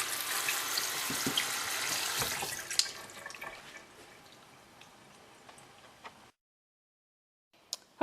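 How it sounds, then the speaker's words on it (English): Cold tap water runs steadily into a kitchen sink while beets are peeled, a broad close splashing rush that thins out after a few seconds, then stops, followed by a single faint drip or clink. "put them into the sink and start running cold water"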